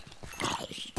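Horses in Minecraft clop and shuffle close by in a quick burst of hoof thuds lasting about a second, with a brief snort-like rumble at the end.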